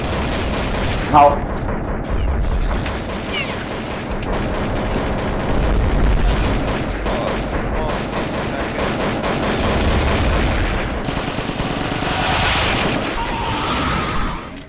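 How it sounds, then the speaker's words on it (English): Loud, continuous explosions and gunfire from the first-person shooter game Reisen Simulator rumble and crackle throughout, dense and booming, with a voice speaking briefly over the noise. "the explosions are too loud"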